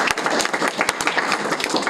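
Audience applause after a master's thesis presentation, brisk close clapping from a modest group, individual claps audible as a steady, even patter.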